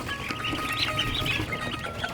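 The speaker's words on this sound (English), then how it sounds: "We got some runner ducks, cayugas." Runner and Cayuga ducks, about thirty together, give a constant murmur of quacking and chatter close by, with a few sharper calls rising above the flock.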